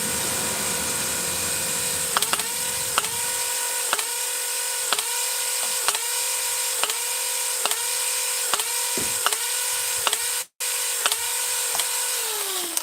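Dart Zone Venom Pro foam blaster in semi-auto, a flywheel whirring steadily while about a dozen darts fire in an even rhythm roughly every second, close and loud.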